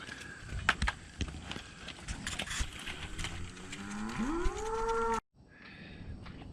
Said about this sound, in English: I also have some cows out here in this particular pasture, and they think they're going to get fed